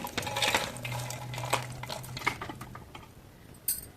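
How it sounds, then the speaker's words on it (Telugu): Soaked chana dal is tipped into a mixer jar in a home kitchen, giving several scattered clinks and dull knocks with faint rattling over a low steady hum, fairly close and brief. "ఇలా మిక్సీ జార్ అయితే తీసుకుని ఈ పప్పు అంతా ఇందులోకి యాడ్ చేసుకుందాం"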